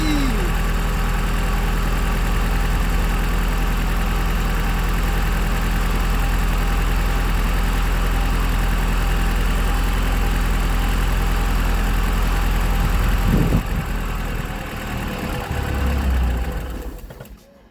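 A long-abandoned Porsche 944 with all four injectors firing runs at a steady, droning idle, loud and close, before the engine note sags and dies away near the end.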